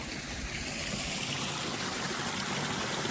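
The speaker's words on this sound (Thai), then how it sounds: "แล้วไหลเป็นน้ำตกเลยพี่ นะไหลเป็นน้ำตกเลยทุกคนดู" A stream rushes and pours continuously, a steady full splashing flow like a small waterfall, close by and unbroken.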